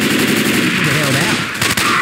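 Rapid automatic gunfire from the zombie shooter Left 4 Dead 2 in a swamp chapter, a dense, loud continuous rattle of shots across the whole moment with game ambience behind it.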